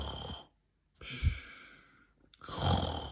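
A person's voice mimics loud snoring in three drawn-out, raspy breaths separated by short silences, close to the microphone.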